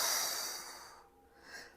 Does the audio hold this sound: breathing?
yes